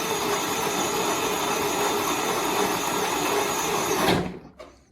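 Electric motor of a kids' ride-on Power Wheels car modified to 18 volts, running in second gear: a loud, steady high-pitched whine with buzzing hum, held evenly for about four seconds and then cutting off abruptly.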